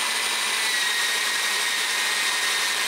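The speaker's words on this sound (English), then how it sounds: "I'm going to go ahead and drill my next hole up, which is a brad point bit" A drill bores a hole in a Jazz Bass guitar body with a brad point bit, a steady, loud, unbroken whirring hiss that holds level throughout, close and alone.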